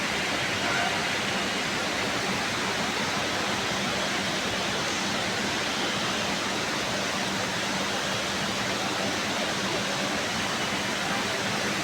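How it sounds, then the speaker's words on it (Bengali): Heavy rain pouring down in Dhaka, a dense, unbroken roar of water like a waterfall, loud and steady throughout with no clear voices. "সেই লেভেলের বৃষ্টি হচ্ছে।"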